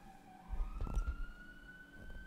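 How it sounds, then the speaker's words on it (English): A siren wails faintly in the distance, its tone rising slowly, over a low rumble of traffic. "You guys hear the siren?"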